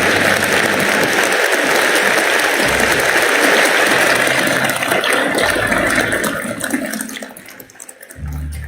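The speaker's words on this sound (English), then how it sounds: "A warm round of applause." A warm round of applause fills a hall at a Think Tank 2022 Asia-Pacific Secretariat launch event, dense sustained clapping that thins out and fades near the end.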